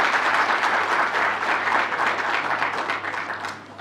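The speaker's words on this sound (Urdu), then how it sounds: "ایک دفعہ BISP میں ہمارے فیلڈ سٹاف کے لیے تالیاں بجائیں۔" Audience applause for field staff at the Benazir Income Support Programme headquarters during a Pakistan Independence Day event, a dense, steady crowd clapping that holds for about four seconds and eases slightly near the end.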